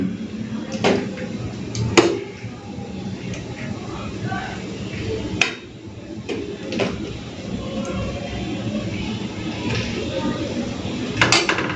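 Ghugni being mixed in a pot, with scattered metallic clinks and scrapes of a spoon against the vessel at irregular intervals, close by, and a voice talking throughout.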